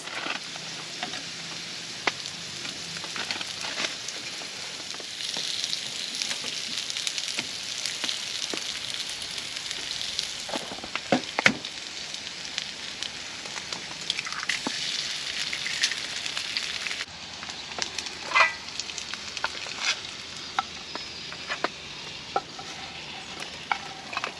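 Breakfast sizzling and frying in a pan at a winter overnight camp, a steady close crackle and hiss with occasional stirring scrapes and clinks running throughout, no talk.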